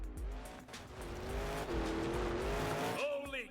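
A racing truck's engine roars close and loud, its pitch climbing and dipping while the tires squeal, ending in a rising, whining rev.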